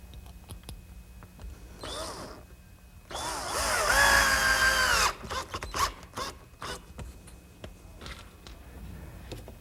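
A power drill drives screws to fasten a scrap of plywood along a line for a plant stand build, with two close, loud whirring bursts, a short one and then a longer sustained one, followed by scattered handling clatter.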